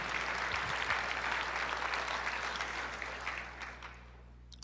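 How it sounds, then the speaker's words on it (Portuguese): A church audience gives a brief round of applause that is moderately loud at first, thins out and fades to silence after about four seconds. "Uma salva de palmas para os dois."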